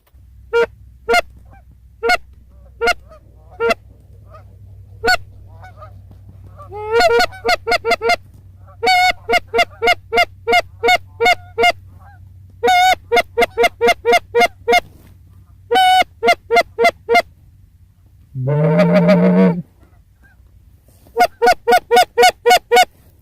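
Geese honking loudly in repeated bursts as a flock moves overhead during a waterfowl hunt with a decoy spread, the calls coming in quick clusters over a steady low background rumble.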